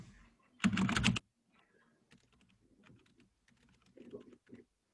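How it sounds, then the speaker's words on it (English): Computer keyboard typing as a name is entered, a loud dense burst of rapid keystrokes followed by sparser, fainter clicks and taps. "So let me just type in their name."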